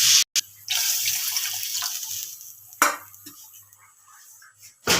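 Water poured into a pan of fried potatoes while making potato rice: a steady, close splashing stream that runs for several seconds, broken by a short gap near the start and a sharp splash near the end.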